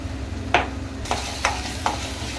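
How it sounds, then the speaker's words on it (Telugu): Chilli chicken sauce with chilli sauce, soy sauce and salt being mixed in a pan, with a steady low sizzle and three distinct scraping strokes of the spoon, close and alone. "అలా మిక్స్ చేసుకోవాలి కాసేపు"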